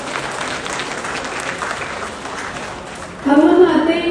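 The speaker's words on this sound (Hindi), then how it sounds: "जोरदार ताली बजानी चाहिए।" Applause from an audience at a grand oath-taking ceremony in Varanasi, a steady crowd clatter that holds for several seconds and then swells louder near the end.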